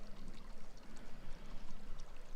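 An off-road crawler pushes through a water crossing, steady splashing and churning rush of water around the wheels, close and continuous with a low rumble beneath, no talk.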